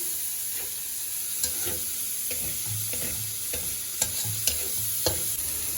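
Two medium chopped onions stir-fried for mamak-style mee goreng, a constant sizzle punctuated by rhythmic spatula scrapes and knocks against the pan, close and clear with no speech.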